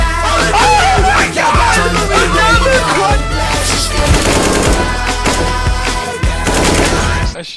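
Rapid AK rifle gunfire in CS:GO, loud sustained automatic bursts with shouting voices mixed in throughout.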